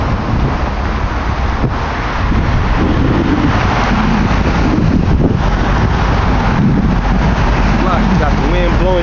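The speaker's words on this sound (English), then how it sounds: "Got the wind blowing shit away." Outdoors, wind gusts buffet the microphone in a loud, constant roaring rumble that fills the scene for several seconds, with no clear voices heard.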